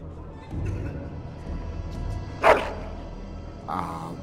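A dog in the video game Dragon Age: Origins gives a single sharp bark midway, with a softer yelp later, over a low rumbling game background.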